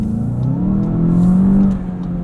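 A 2020 Volkswagen Jetta GLI with a 6-speed manual revs hard, its engine note climbing and holding loud and close before easing off, with no talk over it.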